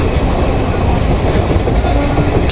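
Tirumala Express train rolling on rails just past Duvvada railway station, a loud, close, continuous rumble with wheel clatter throughout.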